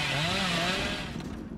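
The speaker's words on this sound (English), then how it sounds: "Can't outrun the chainsaw." A chainsaw revs in the horror video game Dead by Daylight, giving a loud, continuous buzzing roar whose pitch slides and wavers before easing off slightly.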